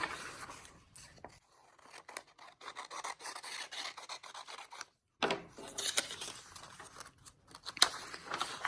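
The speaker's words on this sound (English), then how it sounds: "All we have to do right now is cut off this extra rectangular edge and then we're going to have a square." Paper being trimmed with scissors to square off a sheet for a 3D snowflake craft, heard as close, intermittent rasping snips and rubbing with a brief pause midway.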